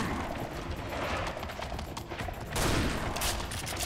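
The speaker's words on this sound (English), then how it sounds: "That is a very, very nice shotgun." Shotgun blasts in the first-person shooter Serious Sam 3: BFE, a loud, dense burst of heavy gunfire continuing across the whole moment, swelling louder in the second half amid chaotic combat noise.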